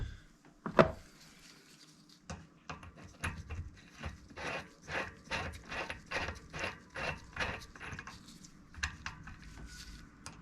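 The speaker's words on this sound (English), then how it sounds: "we're going to put this lock ring back on, and we're going to torque it to the proper specs" Torque wrench tightening the lock ring on a Trek electric mountain bike, a steady run of close ratcheting clicks in rhythmic bursts after a single sharp knock, quiet workshop setting with no talk.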